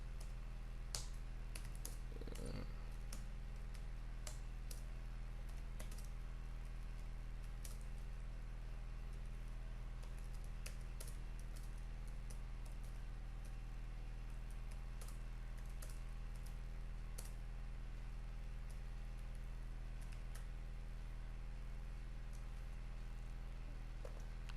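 Steady patter of keystrokes on a computer keyboard, quick irregular clicks typed at a close distance over a constant low hum, no talking.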